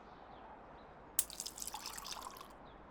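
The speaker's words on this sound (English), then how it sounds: "Grab one and pour me some water." Water poured into a mug, a short trickling splash that starts abruptly and tapers off within about a second, quiet and close.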